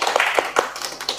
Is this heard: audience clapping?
yes